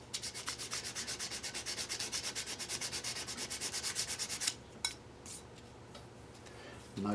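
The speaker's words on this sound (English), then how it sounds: "A little block of wood and some sandpaper." A small block of wood is rubbed with sandpaper in quick, regular back-and-forth strokes, loud and close, before stopping abruptly; a few light knocks and handling sounds follow in near quiet.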